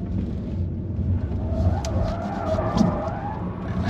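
A Kia EV6 GT drifts in circles, giving a continuous low rumble of tires and motor with swelling throttle surges and faint squeal, steady and fairly close.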